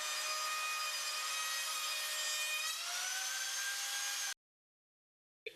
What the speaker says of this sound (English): the bit throws out all the chips in this direction